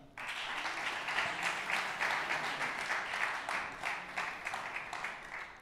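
Sustained crowd applause for a staff member at ESTAC Troyes' championship celebration starts abruptly and continues evenly to the end, dense and fairly close, with no talk over it.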